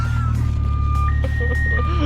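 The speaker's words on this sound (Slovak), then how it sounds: "Normálne na aute vedľa sa zapol alarm z toho." A car alarm sounds on a nearby car, a steady piercing electronic tone running the whole time that shifts pitch once, over a loud low engine rumble from a tuned BMW 335i N54 single-turbo nearby.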